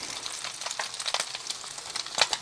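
Bocconcini grilled cheese frying on a Blackstone griddle, a steady close sizzle with faint crackles and small pops throughout.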